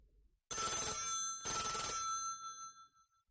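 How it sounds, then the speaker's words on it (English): An old telephone bell rings in two long bursts, loud and close, with a short gap between them and no talk. "10 minutes later, the telephone rang."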